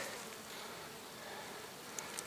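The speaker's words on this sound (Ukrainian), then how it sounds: "працює бджола, у вуликах ажіотаж" Honey bees buzz busily around apiary hives during a heavy nectar flow, a faint, steady, dense drone with no voices.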